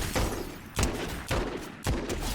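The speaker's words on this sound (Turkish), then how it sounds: "Arkadan birisi sıkıyor bana." Gunfire in a Fortnite match, four sharp close shots spaced roughly half a second apart, each with a short echoing tail, loud and clear.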